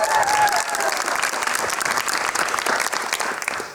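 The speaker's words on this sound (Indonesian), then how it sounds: "Boleh tepuk tangan buat kalian semua mahasiswa-mahasiswa." Students clap loudly and steadily throughout, a dense continuous round of applause from a studio audience.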